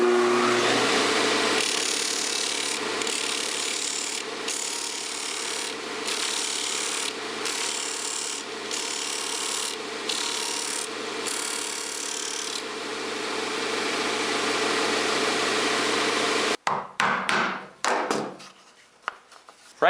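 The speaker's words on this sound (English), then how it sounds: "now I'm going to sand it to the line using my disc sander" Disc sander grinding a wooden knob down to a marked line after a bandsaw cut, a steady loud motor whine with sanding hiss, pulsing as the workpiece is pressed and lifted, then spinning down into scattered clatter.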